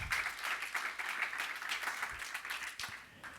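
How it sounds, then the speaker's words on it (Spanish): A church congregation claps hands in praise, a dense, continuous patter of many hands that swells in rhythmic pulses and fills the room at steady volume. "Dale palmas al Señor."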